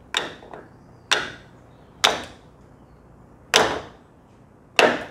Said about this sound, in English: And then it's just a matter of giving him a little tap.